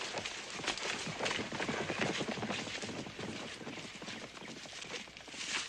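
Horses walking along a muddy creek bed, a steady stream of hoof clops mixed with ambient outdoor noise, continuous and fairly close throughout.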